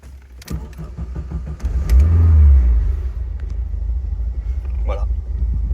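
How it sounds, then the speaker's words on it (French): Small 2-litre engine of a 1991 Alfa Romeo Spider idling, a steady low rumble that swells briefly as it revs, with keys jangling early and a person talking over it. "Le petit 2 litres, pas tapageur. Le bruit comme il faut."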